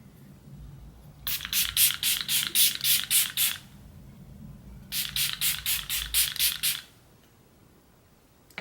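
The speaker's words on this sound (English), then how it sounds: "the Catrice HD Active Performance Freezing Spray" Catrice HD Active Performance Freezing Spray mists out in two quick rhythmic bursts of about eight short hissing pumps each, separated by a brief pause, close and crisp.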